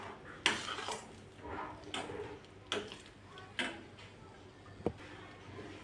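Salt being mixed into green sandwich chutney in a bowl, with faint, quiet clinks and scrapes of a spoon every second or so and no talk.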